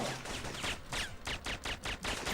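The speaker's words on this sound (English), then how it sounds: "Keep pumping him full of bullets and eventually he will die." Bursts of gunfire from a 1999 PlayStation video game as an enemy is shot repeatedly, a rapid run of sharp close shots repeating in quick clusters over a couple of seconds.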